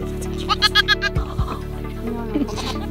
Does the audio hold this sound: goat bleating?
yes